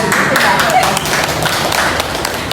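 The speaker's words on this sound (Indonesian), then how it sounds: "kita kasih tepuk tangan" An audience at a school dissemination session claps, the taps and light thuds mixing under voices talking over them.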